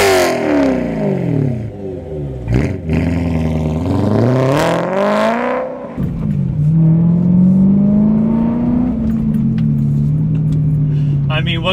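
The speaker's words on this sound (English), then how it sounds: "what can you not love about the V8 in the E9X M3? It's just too good. Too good with the proper exhaust setup. This car sounds insane." A BMW E92 M3 V8 with an aftermarket exhaust revs hard. Sharp rising and falling blips are followed by a steadier, loud drone as the car pulls away, with talk partly over the engine.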